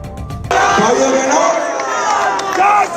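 Crowd at a political road show in Kolkata, a dense, loud roar of many voices and cheering that swells suddenly and stays steady and close, with faint talk before it starts.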